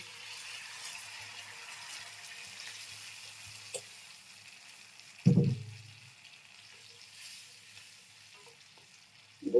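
A prawn posto gravy simmers after a little water is added, with a soft, steady sizzle and bubbling and a few louder splashy bursts of stirring or liquid, with no speech.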